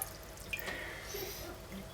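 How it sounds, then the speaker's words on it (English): Water trickles into a Pyrex jug in a home kitchen, a faint, thin pouring and dripping sound that runs quietly throughout, with a few small clinks and no talking. "So in a Pyrex jug, which is easy to pour out of, just 100 ml of water"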